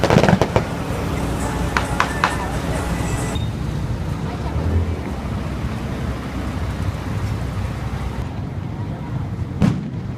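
Bombs burst during a road blockade clash in Bolivia: a sharp, loud blast at the start and another near the end, with rumbling noise and voices between them.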